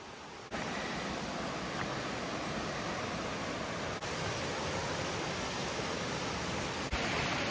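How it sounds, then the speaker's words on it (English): Beaver Brook flows right beside the Beaver Brook Trail on Mt. Moosilauke, giving a steady, full rush of water that stays close and even throughout, with a couple of brief dips and no voices. "here we have Beaver Brook. It runs right alongside the trail"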